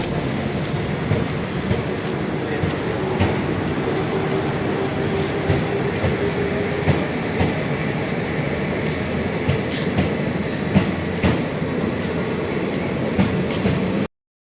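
A train rumbles steadily and loudly nearby, with rhythmic clacking of wheels and occasional metallic clicks, continuous until an abrupt cutoff at the end.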